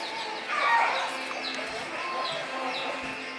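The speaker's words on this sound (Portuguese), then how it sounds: "As galinhas aqui aproveitando." Farm chickens cluck softly while pecking at freshly unloaded sugarcane on a rural smallholding, their low murmuring calls steady and close amid outdoor background noise.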